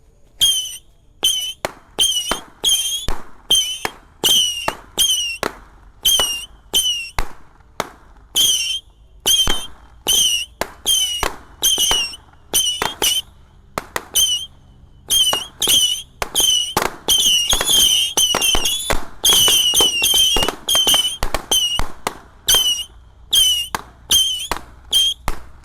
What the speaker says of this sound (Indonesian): Selanjutnya yang kita nyalakan di sini ada mercon misil atau tikusan box 50 shot guys.